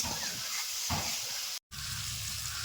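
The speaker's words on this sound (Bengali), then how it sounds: "তিন চার মিনিট ভালো করে কষে নেওয়া হয়ে আছে" Turmeric and spices sauté in hot oil for a homely katla fish and potato curry, a steady close sizzle with stirring scrapes and a brief drop-out partway through.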